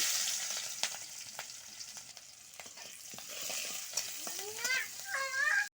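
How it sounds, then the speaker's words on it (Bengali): Onions frying in hot oil in a home kitchen while cooking gourd leaves: a continuous hiss of sizzling with occasional stirring clicks, ending in a few squeaky whining sounds, moderately close. "তেল গরম হয়ে গেছে, এখন পেঁয়াজ দিয়ে দিব"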